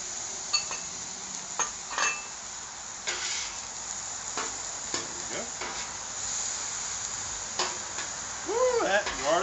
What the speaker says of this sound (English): I'm going to add about a tablespoon of garlic.